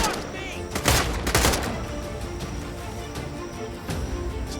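Rapid gunfire with heavy recoil in a dinosaur island survival game, a tight cluster of loud shots near the start and then quieter scattered reports over a steady ambient bed, close to the listener.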